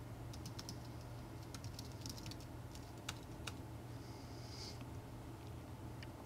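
Keys clatter in light, irregular taps on a computer keyboard as an email address is typed, quiet and close over a faint steady room hum, with no speech.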